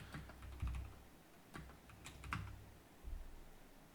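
Typing on a computer keyboard, a run of clicky keystrokes in short irregular bursts with brief pauses, close and fairly quiet over low room noise.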